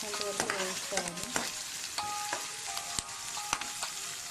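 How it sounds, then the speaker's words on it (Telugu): Onions and curry leaves fry in a pan for an okra masala curry, a steady sizzle broken by repeated scrapes and knocks of a spoon stirring, close and moderately loud with no talk. "ఇప్పుడు ఈ ఆనియన్స్ బ్రౌన్ కలర్లో వచ్చేంత వరకు వేయించుకోవాలి."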